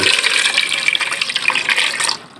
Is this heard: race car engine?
no